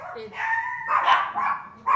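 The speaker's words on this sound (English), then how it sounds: "Finn, you are a silly dog. He is silly. You're barking in the air." A dog named Finn barking in short yaps and whiny woofs, close and fairly loud, several barks in quick succession indoors.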